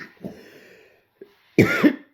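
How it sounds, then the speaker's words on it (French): Several harsh coughs from a person indoors: a short burst early on, a brief catch, then two loud close coughs near the end, with no speech. "Excusez-moi vraiment de tousser."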